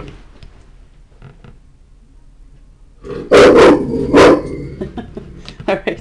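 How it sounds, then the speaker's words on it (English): A dog barks loudly nearby, two sharp barks with a short gap, then a few fainter yips, following quiet room noise and a brief murmur of speech. "sorry about the dog."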